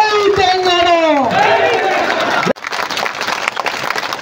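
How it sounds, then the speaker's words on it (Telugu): A crowd claps at a BRS party parliamentary election preparatory meeting held in the party office in Wanaparthy; a loud voice speaks first, then dense, continuous applause breaks out and carries on. "ఒకసారి గట్టిగా విశ్వాసం ఉన్న వాళ్ళంతా ఒక నిమిషం పాటు ఆగకుండా చప్పట్లు కొట్టాలి."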